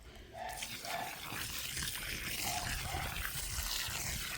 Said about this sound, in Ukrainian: Зараз наліємо водички, наливай кума